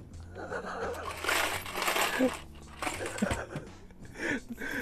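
Loose coins jingle and clink in short bursts, close by, under a steady low hum and some background voice sounds.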